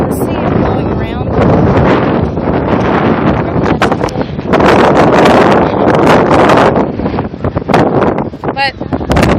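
Strong wind buffets the microphone with a loud, continuous roar at an outdoor Texas barbecue festival, blowing sand around, with brief gusts and rustling throughout.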